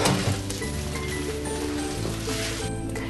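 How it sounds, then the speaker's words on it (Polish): Butter sizzles in a pan where halibut with ginger has been frying, a continuous rain-like crackle with faint clinks, moderately close and with no talking. "Masełko fajnie skwierczy."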